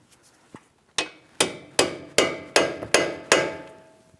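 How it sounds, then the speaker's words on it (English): A hammer drives a chisel between the ears of a 2007-2014 Ford Edge steering knuckle to separate the lower ball joint, metallic strikes ringing out close and loud, about seven evenly spaced blows after a couple of light taps. "As far as that hammer and chisel, we're going to go right in between the 2 ears on the back side of the knuckle"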